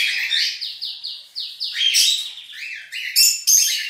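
Many aviary birds at a breeding facility chirp and tweet continuously in a busy, overlapping chorus of short, bright calls, fairly close and clear with no talking.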